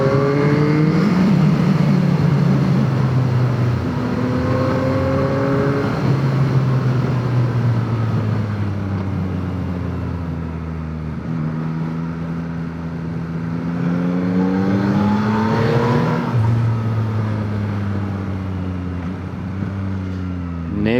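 A Yamaha MT-09 motorcycle with Y-AMT transmission downshifts into a corner. The engine note climbs and drops in several stepped blips and pitch slides, close and continuous, over about twenty seconds.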